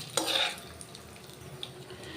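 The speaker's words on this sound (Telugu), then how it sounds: "ఇప్పుడు ఈ పోపు అంతా మనం చక్కగా దోరగా వేగిపోవాలి" Tempering frying in a pan for bitter gourd fry, a brief burst of sizzling and stirring near the start that settles into a faint, steady crackle.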